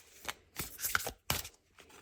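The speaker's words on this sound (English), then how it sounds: "we're going to shuffle some more cards" Tarot cards are shuffled by hand in a few quick bursts of riffling and slapping, separated by short pauses, close up with no talk.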